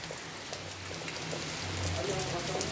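Heavy rain falls on a rural smallholding in Carnaubal, Ceará, a steady, even hiss of drops hitting surfaces throughout, with a low rumbling hum underneath.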